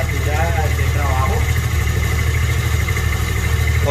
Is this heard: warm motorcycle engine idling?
yes